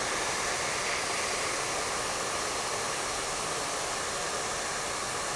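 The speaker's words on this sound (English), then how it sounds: "When I hit it with my blow dryer" A blow dryer blows steadily during a round brush blowout, a continuous loud airy rush with no talking.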